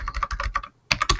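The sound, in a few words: computer keyboard typing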